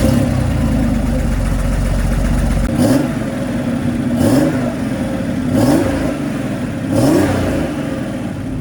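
Porsche 930 Turbo with its 3-litre engine, first a steady loud drone, then four rising revs in quick succession, each swelling and dropping back as gears change.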